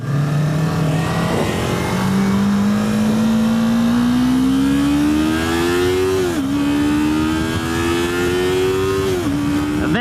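A 2018 Yamaha R3 motorcycle engine revs while riding, its pitch climbing steadily through the gears with two brief dips at shifts, loud and close with wind roar underneath.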